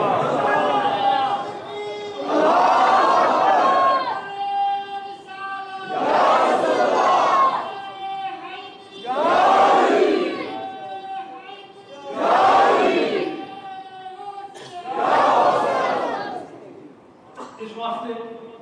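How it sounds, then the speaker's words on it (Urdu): A large crowd at a religious gathering chants slogans in unison, loud bursts of massed voices answering in a repeating call-and-response rhythm, swelling and fading several times. "یا رسول اللہ کے نعرے لگوائیں گے، یا علی کے نعرے لگوائیں گے، یا غوث اعظم کے نعرے لگوائیں گے۔"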